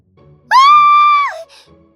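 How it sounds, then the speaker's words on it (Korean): A young woman's piercing scream in a Korean comic-style drama, a single sustained high cry of about a second that rises sharply, holds, then drops off, loud and alone over a quiet background. "난데없이 귀가 찢어질 듯한 비명소리와 함께 문이 벌컥 열렸다."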